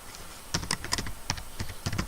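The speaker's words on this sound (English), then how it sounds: "Under this I will type here" Clicky keystrokes on a computer keyboard in irregular short bursts while Java code is entered, close and moderately loud with no talking.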